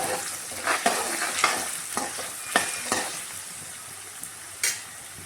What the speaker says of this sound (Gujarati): બટેટા આવી રીતે સતળાઈ જાય